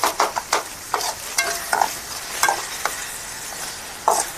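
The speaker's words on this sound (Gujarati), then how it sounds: "હવે આપણે નાખીએ છીએ આદુ લસણ મરચાંની પેસ્ટ" Ginger garlic chili paste sizzles in hot oil while a spoon stirs it, the steady frying hiss broken by repeated scraping clicks of the spoon against the pan, near and alone.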